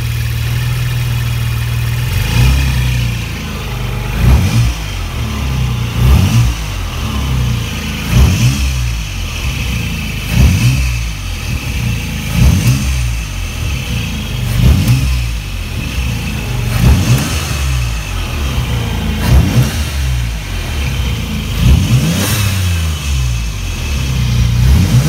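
A 1993 right-hand-drive Nissan 300ZX Twin Turbo fitted with a cold air intake runs steadily near by, its engine idling with a low rumble and repeated short rev blips rising and falling at a rough rhythm throughout, with no talking.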